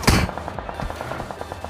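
A loud burst of gunfire opens, then a steady run of quick, evenly spaced shots that continues at moderate volume.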